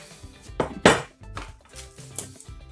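A metal baking pan for a lemon drizzle traybake is lifted off a cake turned out onto a cake plate, giving a few close clanks and clinks with light handling knocks between them.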